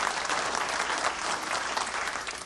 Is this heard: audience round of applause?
yes